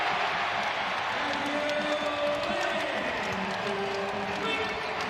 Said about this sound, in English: Crowd went crazy